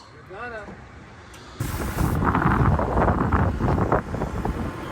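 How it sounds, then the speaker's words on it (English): A whistled tune at first, then strong wind on a barn roof suddenly blasts across the microphone in a loud, continuous roar. "Boy, it's windy up here, Cody."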